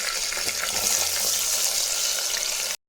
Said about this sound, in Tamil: இது கறியாப்பிலை பச்சை கறியாப்பிலை கம்மியான தீ வச்சு வதக்குங்க